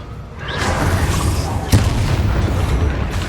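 In the Hogwarts Legacy video game, a Bombarda spell explosion booms with a sharp blast amid a dense, loud rumble of combat noise.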